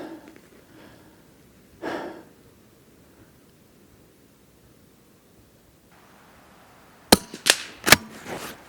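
A Blaser R8 Ultimate straight-pull rifle in .22 rimfire fires one sharp, close shot near the end. Several quick mechanical clicks and echo follow it, after a long quiet stretch.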